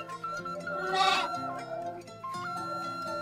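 Sheep or goats bleat in a farm livestock setting, with one loud, wavering bleat near the middle over a steady chorus of softer animal calls and background pen noise.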